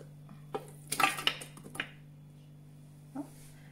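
About 500 grams of pork ribs drop into a Thermomix TM6 bowl with a short cluster of soft clattering thuds, over the machine's steady low hum, then a quieter knock near the end.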